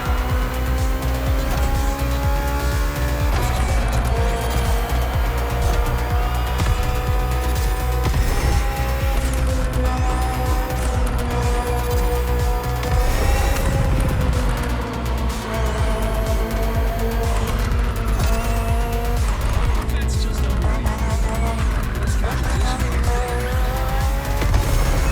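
A BMW M Hybrid V8 endurance race car, built in 2023 for races such as Le Mans, roars continuously in The Crew Motorfest, loud and close, with gear changes and tire squeal throughout and no talking.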